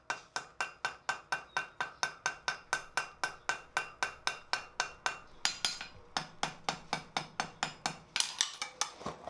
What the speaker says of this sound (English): I'm bringing out the wee baby hammers